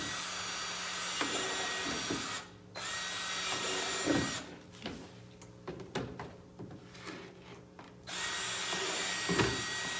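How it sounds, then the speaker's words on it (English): A power drill whirs in bursts, stopping and restarting several times, with brief pauses and clattering handling noises between runs. "drilling holes is a great stress reliever"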